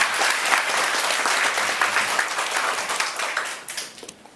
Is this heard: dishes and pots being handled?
no